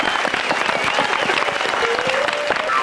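Studio audience at a Taiwanese variety cooking show clapping, a dense, steady burst of applause from many hands close by, with a faint voice beneath.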